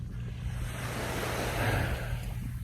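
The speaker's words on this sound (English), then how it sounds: "The sound of it is still cool. Splashing water is always relaxed me." Waves wash steadily onto a beach in a continuous, even surf roar, with wind across the microphone and no voices.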